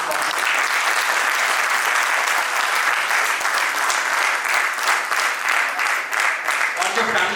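Sustained audience applause at an AMU ZHCET alumni silver jubilee reunion, a dense, steady wash of clapping from a large crowd that holds evenly throughout without letting up.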